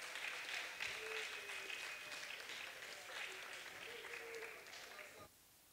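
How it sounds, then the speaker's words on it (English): An audience claps at the Reggae University, a steady crowd applause with a few whoops that cuts off abruptly near the end. "please give yourselves a warm round of applause"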